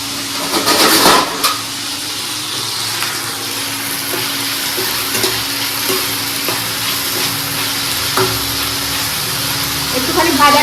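Potatoes frying in a wok, a steady close sizzle with occasional stirring scrapes, continuous under a low background hum.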